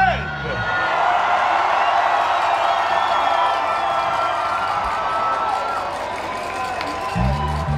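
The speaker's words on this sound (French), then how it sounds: "On peut l'applaudir encore très fort, tout un discours." A large crowd at a Fête nationale celebration applauds and cheers steadily after a speech, a dense, sustained wash of clapping and shouts with whoops, before a voice comes back in near the end.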